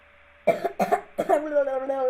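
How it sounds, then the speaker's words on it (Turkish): Three sharp, close coughs in quick succession, followed by a drawn-out voiced throaty sound. "arkadaşlar öksürmem lazım"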